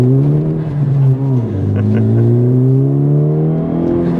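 A manual-transmission car accelerating, the engine note climbing, dropping sharply at a gear change around the middle, then rising again; loud and close, heard from inside the car with no talking.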